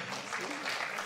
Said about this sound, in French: on peut applaudir très fort Christian